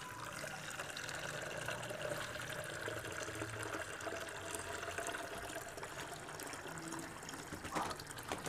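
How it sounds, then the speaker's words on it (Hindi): Hot water pouring steadily into a clay pot, a faint continuous splashing and trickling stream heard at a distance, with a low background hum. "ये गर्म पानी डाल रहे हैं"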